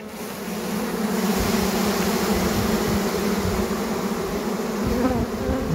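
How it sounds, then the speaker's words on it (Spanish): A queenless honeybee colony hums with a loud, dense, continuous buzzing close to the listener, the drone holding steady throughout with no voices over it. "escuche el sonido de esta colmena"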